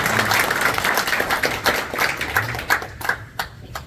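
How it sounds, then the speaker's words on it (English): An audience at an event honoring the Sepak Takraw Team USA gold medal applauds steadily, a dense spread of hand claps that holds strong for a few seconds, then thins into scattered, fading claps toward the end. "Everybody applaud."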